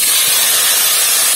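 Raw mango pieces hit hot mustard oil tempered with dried red chillies and black mustard seeds, giving a loud, continuous hiss of close, intense frying.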